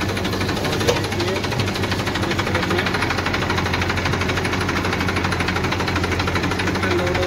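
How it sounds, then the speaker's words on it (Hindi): A JCB 3DX backhoe loader loads mud into a tractor, its diesel engine holding a steady, close, loud drone with a faint knocking rhythm and no voices. "ट्रैक्टर लोड हो रहा है और मशीन लोडिंग कर रही है, चल रही है।"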